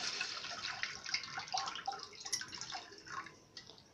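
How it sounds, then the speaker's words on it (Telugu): Water is poured into a pan for brown rice coconut milk payasam, a faint, soft trickle with light splashy, dripping detail and no talking. "5 కప్స్ వాటర్ వేయాలి."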